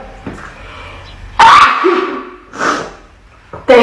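Two sharp, loud sneezes burst out about two seconds apart, each followed by a short trailing breath, close up and alone.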